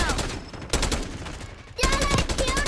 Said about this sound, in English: I see him shooting outside the fence.